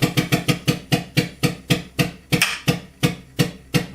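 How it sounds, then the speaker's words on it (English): A part under a pressure test snaps and cracks in a quick, regular series of about fifteen sharp, close cracks, roughly three per second, with no voices. "Some snapping and a cracking."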